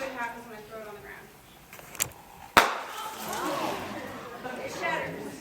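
An object frozen brittle in liquid nitrogen is thrown onto the ground during a chemistry demo show and shatters with one sharp crack. Scattering debris and voices follow it.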